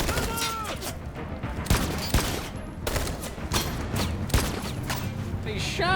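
Gunfire in the video game Detroit: Become Human, a burst of sharp shots and volleys spread across a few seconds, mixed with game sound and a voice talking over it.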